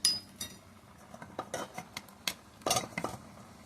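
A spoon clinks and scrapes against a pot of moong dal with moringa drumsticks, giving a series of sharp, irregular metallic taps close by, with no talking.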